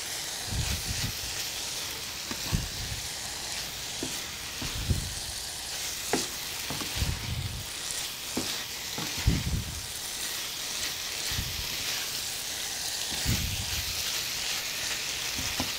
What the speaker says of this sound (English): Stir it up good, make sure it cooks on both sides.